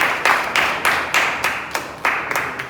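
A small Toastmasters club audience claps for an introduced speaker: a handful of sharp, separate claps that rise and fade in loose rhythm, close by and fairly loud.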